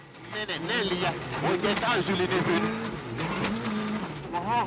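A WRC rally car spins on a stage in Finland, its engine revving and rising and falling in pitch with some tire noise, while a commentator talks over it.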